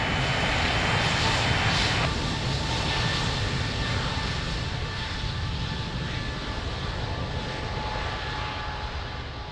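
A plane takes off on runway 02 at Lisbon Airport with a loud, steady, close engine roar that fades slightly toward the end.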